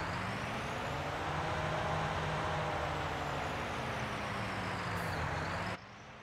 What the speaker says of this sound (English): Yeah, New Holland is a nice strong tractor indeed.